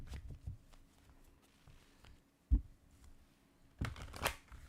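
Cards shuffled by hand during a spiritual card reading: a soft riffling burst at the start and a louder, denser flurry near the end, with quiet pauses between.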